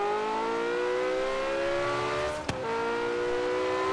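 A Porsche in the Forza Horizon 3 racing game revs continuously, its engine tone climbing steadily, with a brief gear-shift dip and click midway before the rising drone resumes, loud and alone.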